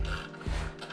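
A socket ratchet clicks steadily close by while loosening the 12 mm brake caliper bolts on a Honda Fury motorcycle, a quick mechanical ratcheting with a dull knock partway through.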